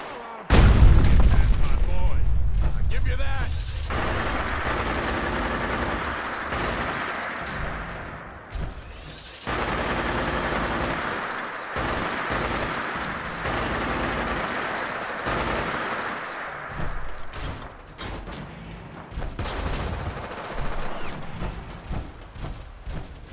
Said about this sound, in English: Oh, they are shooting Preston.